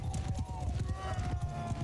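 Horse hooves clatter in a rapid galloping rhythm during a battle in Mount & Blade II: Bannerlord, with a voice speaking over them.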